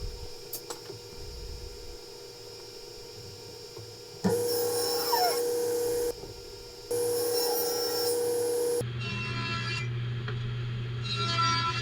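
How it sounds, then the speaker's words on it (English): Bursts of raspy sanding on dry curly maple, two long stretches of steady scratchy friction, followed by a lower machine hum. "Sanding down the curly maple that's now dry and cutting it to size."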